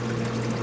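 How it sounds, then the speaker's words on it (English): Water in a reef aquarium flows down a built channel through rubble to the bottom, a steady, close trickling pour with a low continuous hum beneath it. "I built that channel there so the water goes down through here, down to the bottom."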